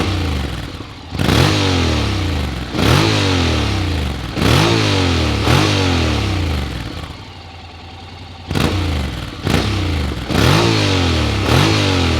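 A Honda 750 motorcycle pulls away in repeated smooth accelerations, each run rising in pitch and then dropping at the gear change, loud and close with a short quieter lull in the middle.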